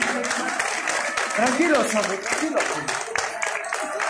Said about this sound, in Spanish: ¡Fuerte el aplauso para ellos dos!